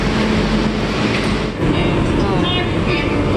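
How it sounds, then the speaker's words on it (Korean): Subway train in a Buenos Aires metro station, a loud continuous rumble and rattle of cars passing close with brake squeals, while people talk. "지하철을 타려고 기다리고 있어요."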